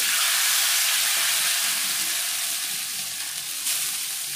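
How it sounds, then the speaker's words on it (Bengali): Chow mein noodles frying in hot white oil in a wok, a loud continuous hissing sizzle that holds steady throughout and eases slightly toward the end, with no talking. "হাফ পরিমাণ দেওয়ার পর ওটা ভালো করে ভেজে নিচ্ছি"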